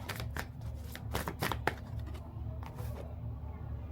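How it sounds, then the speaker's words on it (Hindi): A tarot deck is shuffled close by in a quiet room, making a series of soft, papery riffling bursts with brief pauses between them. "ये देखिए कार्ड्स आपके सामने शफल हो रहे हैं।"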